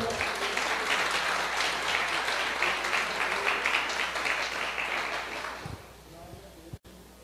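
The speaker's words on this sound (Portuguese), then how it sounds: "Se você puder dar uma salva de palmas ao Senhor." A church congregation applauds at a Sunday worship service, sustained dense clapping that fills the room for several seconds before tapering off and fading out.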